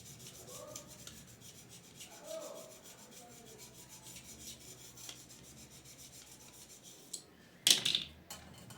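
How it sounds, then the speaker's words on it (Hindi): A kite's bamboo spar being shaved down by hand, with soft, close scraping strokes through most of the stretch and a sharper burst of scraping near the end. "तो हम इधर की भी दोबारा छीलेंगे।"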